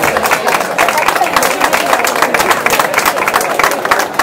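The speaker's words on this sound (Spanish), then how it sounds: "Damos un aplauso." Crowd at a grape harvest festival prize ceremony breaks into steady, dense applause, a continuous wash of clapping with murmurs and some voices mixed in, fairly loud throughout.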